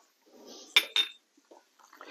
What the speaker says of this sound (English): Sorry about the noise here. My pan has a little bit of a